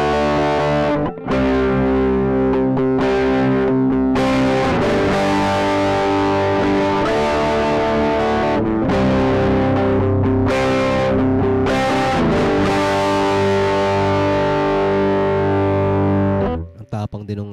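An electric guitar plays through a Joyo Rioter overdrive pedal, giving a thick, distorted tone; strummed chords and riffs ring out loud and continuous for about sixteen seconds before cutting off.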